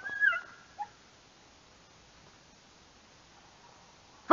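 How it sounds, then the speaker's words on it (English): Dogs out running give a short high whimpering yip and a brief second cry, then fall silent before a sudden loud burst at the very end. "Trying to get some good footage of these dogs running today."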